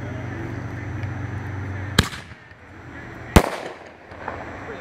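Two sharp, loud reports from a 1-inch canister firework shell, the AFW Ammo Bomber, each crack ringing out alone a little over a second apart against faint outdoor background.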